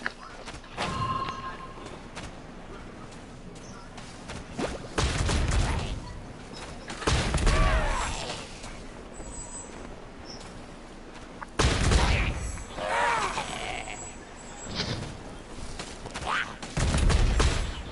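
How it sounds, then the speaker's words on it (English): Bombing-run explosions in the Genshin Impact video game land as repeated heavy booms and bursts, several loud blasts with rumbling tails spaced across the stretch over a constant game background. "They got me doing a bombing run."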